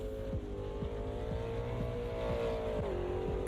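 A Ginetta race car in the Automobilista 2 racing game revs through its gears, a steady droning engine note rising with repeated quick downshift blips, alone and moderately loud.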